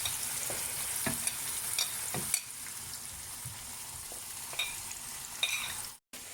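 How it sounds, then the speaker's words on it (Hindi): Garlic fries with tomato puree in a pot, a steady soft sizzle with occasional scraping stirs and clinks, close and fairly quiet, ending abruptly. "अभी ब्राउन हो गया, इसमें टमाटर प्यूरी डाल, इसमें थोड़ा गार्लिक रेडी हो गया।"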